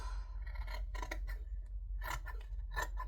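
Scissors trim fabric in several crisp snipping bursts, close but faint over a low steady hum, with short gaps between the cuts.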